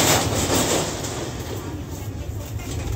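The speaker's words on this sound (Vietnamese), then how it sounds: "Đường sắt." A train rumbles along the railway beside an iron bridge in a riverside neighbourhood, a loud continuous roar with faint rhythmic clatter.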